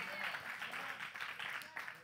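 A church congregation claps in a steady rhythm, the sound coming from a distance and fairly faint, with a voice talking over it.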